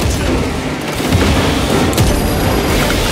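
A grenade explodes in the Warhammer 40K: Space Marine 2 video game, a loud dense boom and roar that fills the whole stretch amid ongoing battle noise.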